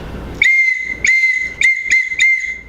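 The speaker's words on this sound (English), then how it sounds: "a whistle" A shrill whistle blown in five sharp blasts, the last few closer together, loud and close with nothing else around it.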